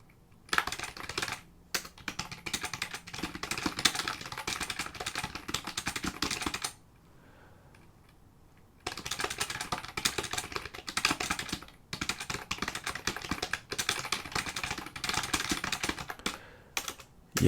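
Keyboard typing in an ASMR session about writing, with bursts of rapid clicking keys close up, pausing for about two seconds midway, then resuming steadily to the end.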